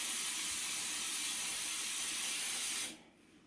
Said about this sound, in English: What I'm gonna do now is just spray this with some of my trusty oven spray.